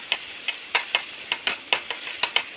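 Chopped onion, garlic and nigella seeds frying in a pan, with about a dozen sharp, evenly spaced scrapes of a spatula stirring them over a faint sizzle, heard close with no talking.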